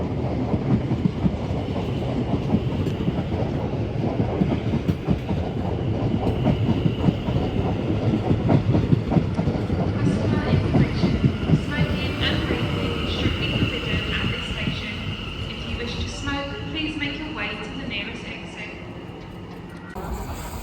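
Class 701 unit 701 002 departs Clapham Junction for Woking, a loud rumbling roll with wheel clatter and motor whine, slowly easing away amid station ambience.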